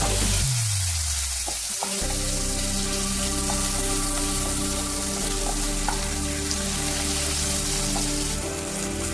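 Sliced onions sizzle and fry steadily in hot oil alongside cloves and cardamom in a Bengali kofta curry, a loud continuous crackle close by with a brief stir at the start and no talking.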